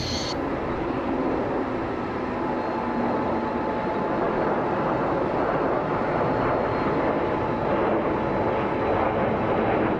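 A Hawker Hunter jet flying an airshow display gives off a sustained, loud, broadband engine roar that holds steady throughout with no speech over it.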